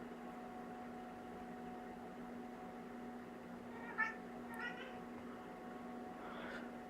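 A domestic cat meows a few times in the background of a room with a steady electrical hum, short faint cries around the middle and a softer one near the end.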